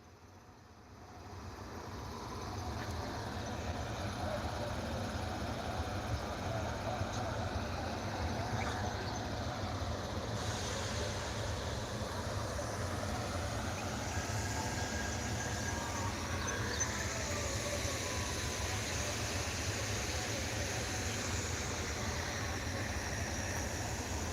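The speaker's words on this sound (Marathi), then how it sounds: "ही आपली सर्वांची लाडकी सेंट्रल रेल्वे आणि कुर्डवाडीचं रेल्वे स्टेशन" A steady rumble of a train at Kurduwadi railway station on the Central Railway, continuous low engine drone with broadband hiss, fairly loud and unbroken throughout, no voices.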